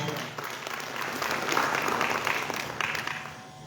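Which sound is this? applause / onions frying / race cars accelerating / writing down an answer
applause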